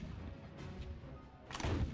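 Cannon fire in the Gods and Generals video game booms dully and low in the distance, a rumbling blast swelling near the end over a steady background hum.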